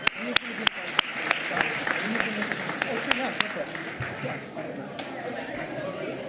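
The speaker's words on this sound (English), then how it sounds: "another round of applause." A conference audience at a regenerative living event in New York claps and cheers in a sustained burst of applause, sharp individual claps standing out over a dense crowd wash with chatter mixed in.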